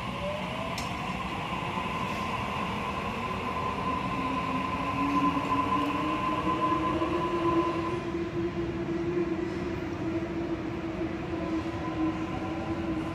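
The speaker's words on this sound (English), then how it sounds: "But the next train doesn't stop." A Sydney train rumbles steadily through Liverpool Station without slowing, wheels droning and a faint rising squeal over the continuous roar.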